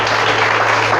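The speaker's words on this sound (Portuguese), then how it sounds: "Pode aplaudir, glorificar." A church congregation breaks into loud, dense applause for about a second, with voices mingled in the clapping.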